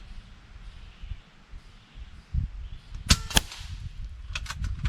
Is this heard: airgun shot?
yes